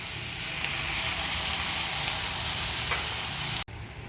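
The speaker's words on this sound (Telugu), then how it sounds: "ఉప్పును చింతపండు రసము వేసుకుందాం." Salt and tamarind juice hiss and crackle in a hot pan of punarnava leaf chutney, a steady close sizzle that runs unbroken, then cuts off sharply near the end.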